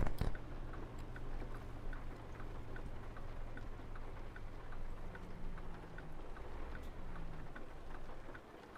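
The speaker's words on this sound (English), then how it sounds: "I do like the sound effect for the rain on the roof though" Rain patters steadily on a truck cab roof in American Truck Simulator, a soft, even drizzle of ticking drops over a low engine hum, quiet and continuous.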